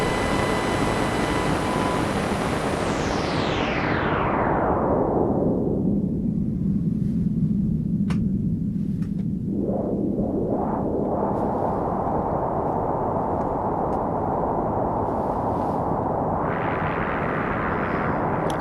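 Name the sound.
Behringer Pro1 synthesizer drone with radio signal mixed in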